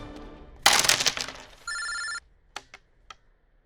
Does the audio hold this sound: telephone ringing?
yes